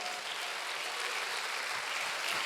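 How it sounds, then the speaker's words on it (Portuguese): Church congregation applauding during a Baptist communion service, a dense and even roar of many hands clapping together, sustained and fairly close throughout. "Aplauda o Senhor, amém?"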